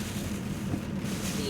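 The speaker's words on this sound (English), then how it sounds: "Ooh, that wind is kicking." Strong wind from Hurricane Milton in Florida roars steadily near a highway, a dense, buffeting rush hitting the microphone throughout the short moment.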